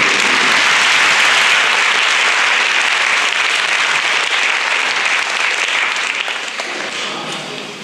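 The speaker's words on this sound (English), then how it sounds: "Nice round of applause." Sustained applause from the audience at a GED graduation ceremony, a full, steady wash of clapping from many hands that gradually fades over several seconds.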